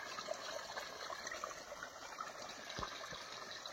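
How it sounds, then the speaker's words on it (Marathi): Quiet, steady trickle of irrigation water flowing into a millet field, soft and continuous, with a couple of faint low thumps and no voices. "ह्या साईडनं बाजरीला पाणी चालू आहे"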